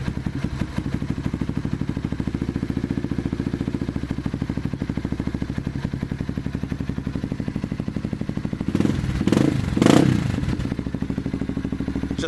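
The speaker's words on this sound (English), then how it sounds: "Now that it's rejetted and uncorked, the bike it warms up very quickly." A 2015 Yamaha TTR 230 dirt bike, rejetted and uncorked with an aftermarket exhaust, idles on choke while warming up, a steady rapid single-cylinder putter close by, interrupted near the end by a few brief clunks and scrapes.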